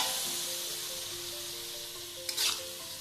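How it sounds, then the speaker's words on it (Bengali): Masala sautés in goat fat with a splash of water, giving a steady close hissing sizzle that flares briefly louder near the end. "সামান্য একটু জল দিয়ে মশলাটাকে ভালো করে কষাবো।"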